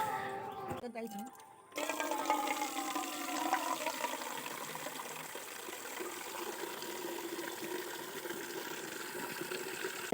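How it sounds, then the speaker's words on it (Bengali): Tap water pouring into a container at home, a steady close splashing rush that starts abruptly after a moment of quieter sounds and runs on evenly. "তো এখন এসেছে কলের জল, আর এখন আমি জল ধরবো।"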